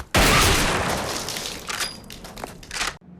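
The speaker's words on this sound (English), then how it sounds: "That is a good exploding head." A practical-effect alien head blown apart on set, a sudden loud burst followed by a long crackling, debris-filled decay that cuts off abruptly after about three seconds.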